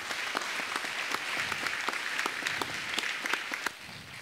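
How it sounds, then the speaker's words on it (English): Steady audience applause at a lecture-hall talk, a dense wash of many hands clapping at moderate distance, holding even for several seconds before tapering slightly at the end. "Let's give Andrew a round of applause and thank him."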